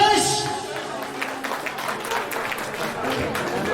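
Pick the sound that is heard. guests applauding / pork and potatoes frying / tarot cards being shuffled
guests applauding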